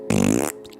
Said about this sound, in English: And now, a fart sound.